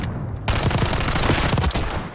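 Call of Duty gunfire erupts after a short pause as a loud, close burst of rapid shots that keeps hammering for over a second and a half, then trails off.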